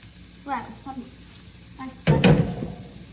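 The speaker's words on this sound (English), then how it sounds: "to put our onion and our garlic into our heated pan" Onion and garlic drop into a heated pan and burst into a loud sizzle that holds for the last second, after a stretch of someone talking nearby.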